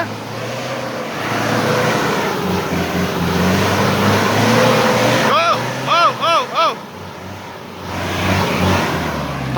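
A car engine strains and revs on a steep, muddy mountain road in heavy rain, a loud continuous drone broken by several sharp surging revs near the end, with shouted directions from a nearby voice.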